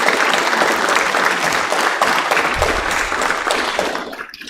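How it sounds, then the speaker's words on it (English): A student government meeting audience claps loudly and steadily for several seconds, dense and close, with no talking, then the applause tapers off. "so please give a round of applause."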